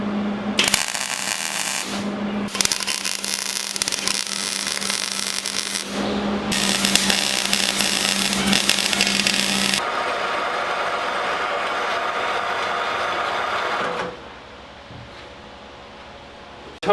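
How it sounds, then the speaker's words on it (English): Steel tubing being cut and welded into a vintage mini bike frame during a cafe racer build: loud, sustained harsh grinding and hissing in several long bursts with brief breaks, ending in a quieter low hum. "it's as simple as just cutting a piece of tubing and welding it in"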